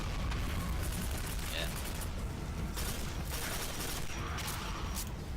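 Gunfire in the shooter Quake 4, heavy and sustained with repeated bursts and rumbling blasts over a dense wall of noise, while a voice briefly speaks.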